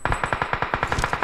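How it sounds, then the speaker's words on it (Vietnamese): Rapid automatic gunfire from a video game fires in an even burst of about a dozen loud, close shots, with no talk over it. "Má bắn kìa."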